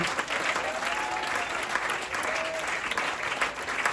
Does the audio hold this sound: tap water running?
no